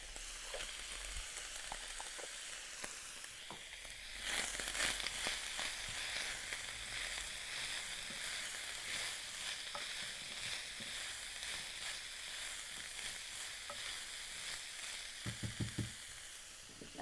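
Garlic sizzling with zucchini in a skillet, a soft steady crackle that swells louder after a few seconds and keeps going, with occasional scraping stir taps and no talking.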